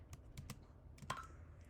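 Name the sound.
typing on a computer keyboard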